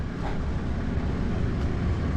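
A John Deere heavy machine clearing trees at a roadside works site runs as a steady, dense engine rumble that holds constant throughout, broadband and fairly loud with a little wind buffeting.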